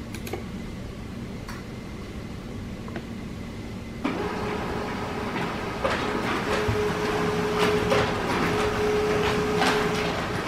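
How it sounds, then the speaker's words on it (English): An HP LaserJet Pro MFP laser printer running a status report: steady mechanical hum, then a louder shift as the feed engages, with repeated ticks and clicks throughout. "We'll print a printer status report."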